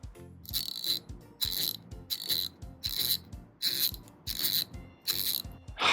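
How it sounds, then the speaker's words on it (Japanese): An 80-gear Snap-on ratchet handle clicks through seven quick, rhythmic bursts of fine ratcheting, close and clear with no talking. "こちらが80ギアの音。"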